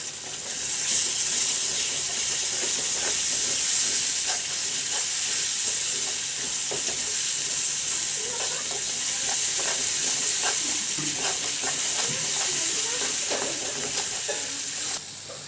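Tomato paste sizzles and fries in a pan while a paneer curry cooks, with a steady close hiss and frequent scraping stirs of a spoon, no talking.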